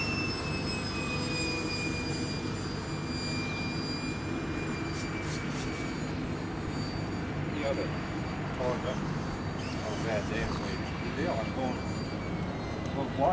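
A model airplane engine drones steadily overhead with a high whine, continuous and fairly distant, while people talk now and then beneath it.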